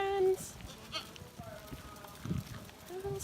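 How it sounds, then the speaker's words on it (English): Goats in a village in Barbuda giving a short bleat at the start and a fainter one near the end, with quiet outdoor background between. "Little sweet goats."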